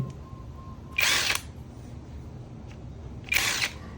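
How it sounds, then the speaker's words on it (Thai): A TEXUS BULL cordless impact wrench rated 550 Nm loosens a nut in its auto-stop reverse mode, firing two short loud whirring bursts a couple of seconds apart against a quiet background. "เวลาที่เราขันออกกดแช่ไว้เนี่ยเขาจะหยุดตัวเครื่องเอง"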